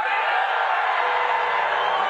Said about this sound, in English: People are already booing.